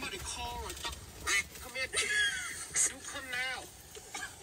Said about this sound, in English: Really, I'm glad those geese aren't coming pass in here.